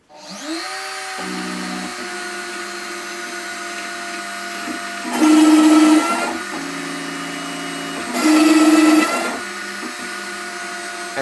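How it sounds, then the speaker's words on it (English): A CNC router with a 6mm router bit cuts holes for the control pots in a wooden guitar body, its steady motor whine twice rising into louder bursts of cutting noise. "the first cut will be the holes for the control pots. I'm using a 6mm router cutter"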